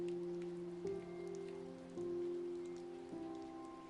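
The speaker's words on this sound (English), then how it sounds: "Mia loved walking in the rain." Steady rain falls on a surface in a continuous close hiss, with a soft sustained musical tone running beneath it throughout.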